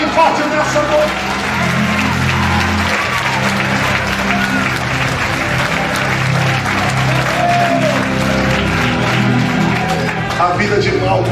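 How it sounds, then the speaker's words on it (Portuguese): A church congregation applauds loudly and steadily at night, the dense clapping continuing without pause, with voices mixed into the crowd noise. "Aplaude a Ele bem forte nessa noite."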